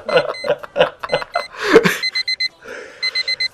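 An alarm clock in a horror video game beeps in short regular groups of four, after a run of loud rhythmic thumps and a sharp gasp-like hit.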